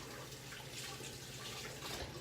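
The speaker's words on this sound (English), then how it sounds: "I'm just going to rinse those off." Frozen corn rinsed under a running kitchen tap, a steady close rush of water splashing over the kernels for a couple of seconds with no speech.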